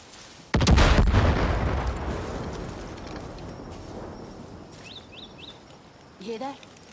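Car blowing up in Far Cry New Dawn, one sudden heavy blast followed by a long crackling, rumbling decay, then quieter bangs and chirping game effects near the end, with voices talking over it.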